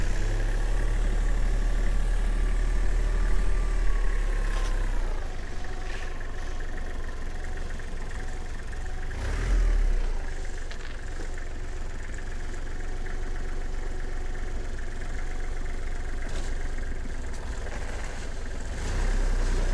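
A Kubota GL23 tractor engine runs steadily at a constant idle with the front axle engaged, a close and fairly loud low mechanical drone with a few brief clunks and rattles and no talking over it.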